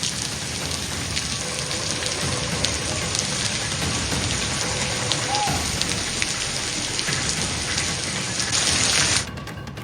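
Heavy monsoon downpour near Kolhapur, a dense continuous roar of rain hammering surfaces, loud and close, steady for the whole stretch before dropping off abruptly at the end.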